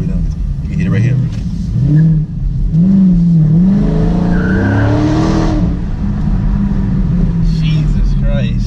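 A Dodge Charger Daytona 392 V8 revs hard as its wheels spin on wet pavement, a loud, sustained engine roar with rising pitch and tyre hiss, as people talk and laugh inside the car.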